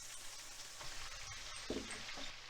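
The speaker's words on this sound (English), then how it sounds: "until we get done frying this okra" Steady soft sizzle of okra frying in a pan, a continuous crackling hiss with a few small pops and stirring sounds, close and quiet.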